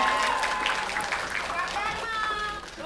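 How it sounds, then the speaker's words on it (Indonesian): Applause breaks out among the audience at a film press conference, a moderate wash of clapping under the overlapping voices of people talking and cheering nearby. "Sekali lagi kita berikan tepuk tangan yang paling meriah dong untuk seluruh dari hati Suwita"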